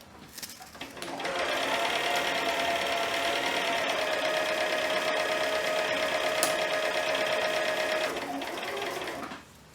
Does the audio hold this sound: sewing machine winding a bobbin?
yes